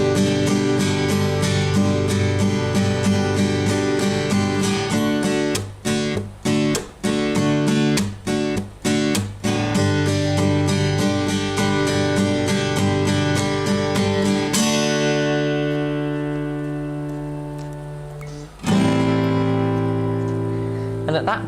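Guitar strums chords of a song in a steady rhythm with brief muted chops, then lets a final chord ring out and fade before one last strum.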